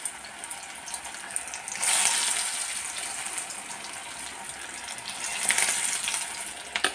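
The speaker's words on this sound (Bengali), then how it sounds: "আমি এক এক করে স্বামী কাবাবগুলো দিয়ে লাল করে ভেজে দেব।" Sami kebabs fry one by one in hot oil over a low gas flame, with a steady soft sizzle that swells twice into louder bursts of crackling.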